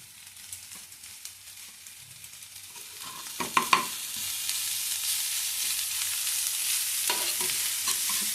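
Dry spices and green chillies sizzling in a hot pan with fried onions, a steady frying hiss with a few scraping stirs of a spoon.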